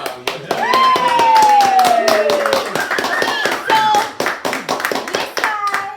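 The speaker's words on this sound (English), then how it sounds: "round of applause." Rhythmic close clapping from a few hands at an informal beer-tasting gathering, steady claps overlapping with lively, sing-song voices and an excited high-pitched vocal whoop.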